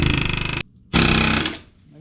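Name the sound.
air hammer working on Jeep wheel bearing bolt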